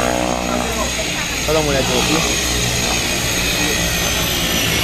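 A skydiving airplane taxis up for boarding at a parachuting drop zone, its steady engine roar loud and close throughout while people talk over it.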